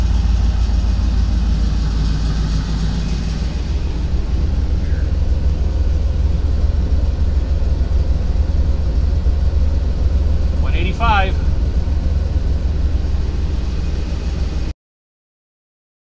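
A Ford Bronco II with a swapped-in LS V8 runs steadily, its deep low rumble constant and fairly close throughout, with a brief higher mechanical chirp partway through before the sound cuts off.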